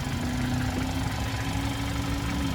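A 2.4-liter four-cylinder engine in a 2020 Kia Sportage LX idles steadily with a close, loud, even hum and a faint rhythmic knock, holding a constant pitch throughout with no voices over it.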